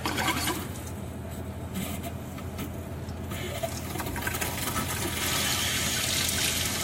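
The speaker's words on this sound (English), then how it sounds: "I'm going to go ahead and turn the faucet on and allow the water to completely begin to flow." Water runs steadily from a kitchen faucet fed by an under-sink filter, a continuous loud hiss and gush lasting throughout, brightening toward the end as the flow opens fully.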